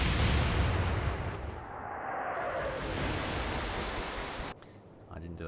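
A heavy naval gun fires in the Atlantic Fleet game, one loud booming blast that rolls into a long, rumbling decay before cutting off abruptly.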